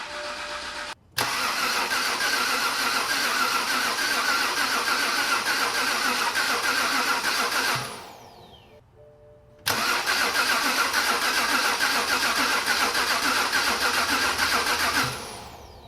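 A BMW N52 engine in a 328i E90 cranks over on the starter with the fuel pump fuse pulled, two long steady droning bursts separated by a brief pause, loud and close.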